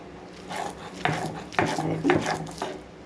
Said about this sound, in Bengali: তাই আমি এটা শিলনোড়াতে বাটছি